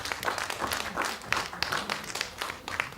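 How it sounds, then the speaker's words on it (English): An audience at a multicultural spring event applauds a guest invited to speak, a fairly quiet, steady patter of many hands clapping that lasts for a few seconds without talking. "A big round of applause, ladies and gentlemen."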